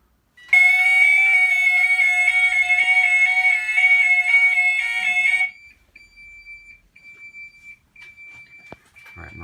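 A Gent 32000 fire alarm system sounds during a test: a loud, steady electronic alarm tone with a repeating pattern runs for about five seconds, then stops, leaving a faint lingering beep.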